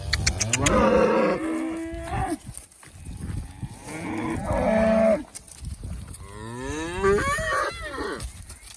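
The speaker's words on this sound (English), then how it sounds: "I just say, come on, the cows come running" Several cows at a bale feeder moo loudly and repeatedly, long drawn-out lowing calls overlapping one another, close by with short pauses between them.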